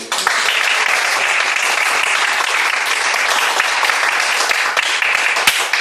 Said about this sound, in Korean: 우리 정희택 목사님께 한 번 더 감사의 박수